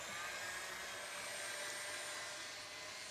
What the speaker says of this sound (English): And then whisk this up.